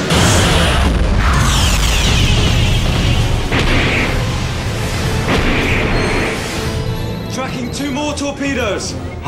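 Torpedoes launch in a film space battle, a dense, loud wall of booming bursts and heavy mechanical rumble, with sharper impacts punctuating the roar and voices mixed in.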